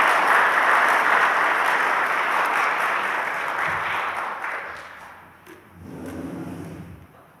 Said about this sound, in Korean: 여러분 이 자리를 빌어서 크게 박수하시고 격려해 주시면 대단히 감사하겠습니다